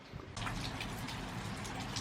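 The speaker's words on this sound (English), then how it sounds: "It's raining!" Rain falls outdoors in a steady hiss of countless drops, starting faint then swelling to a dense, even patter that carries on without a break and without talk.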